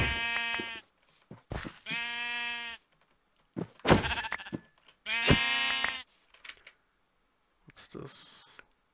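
Minecraft sheep bleat in several short, loud, harmonic bursts with pauses between, mixed with a few game clicks, and brief talk toward the end.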